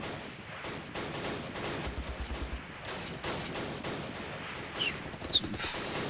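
Scattered, distant rifle and machine-gun fire in the wartime strategy game Close Combat: Last Stand Arnhem, a steady crackle of overlapping shots with a few sharper reports.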